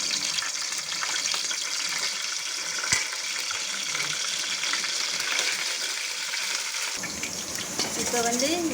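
Bay leaf, cinnamon, cloves and cardamom frying in hot oil for mutton biryani, a dense, steady crackling sizzle close by throughout, with a voice starting near the end.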